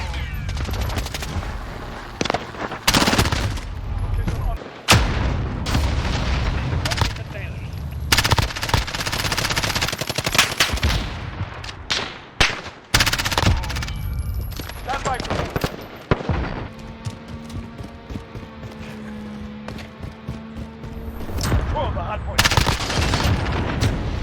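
Rapid automatic bursts from an MP7 submachine gun in Call of Duty Modern Warfare, loud and near, repeating in dense volleys with brief pauses and game sound effects between them.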